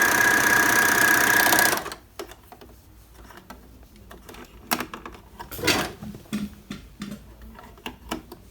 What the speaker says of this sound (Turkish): Şu an yaptığımızda 4 iplik dikişli overlock.